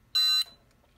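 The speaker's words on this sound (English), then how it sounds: "we get an audible alarm telling you that something is wrong in the press" A reloading press's level sensor sounds a single short, shrill electronic alarm beep, close and clear against a quiet background.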